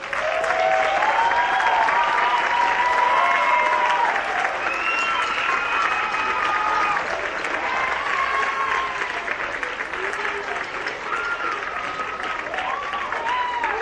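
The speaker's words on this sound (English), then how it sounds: "I want a big round of applause for all of these students who have played for 2 months already" Sustained applause from a school audience for young band students at an end-of-year presentation, a broad continuous wash of clapping with faint cheering and voices mixed in, steady throughout and tapering slightly near the end.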